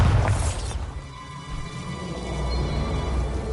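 A Bombarda blasting spell goes off in Hogwarts Legacy on PS5: a sharp, loud burst with a shattering crack at the start, then a lower rumble and scattered debris that fade under steady game ambience.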